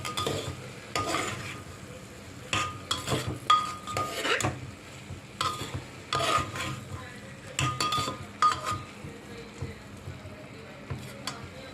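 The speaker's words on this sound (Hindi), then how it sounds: "अब सबके फ्राई कऽ कऽ सबके मिक्स कऽ दै छियै।" A spoon stirs and mixes fried tomatoes and other pulao ingredients in a pot, giving repeated scraping clinks and soft sizzling bursts in an uneven rhythm, close and moderately quiet.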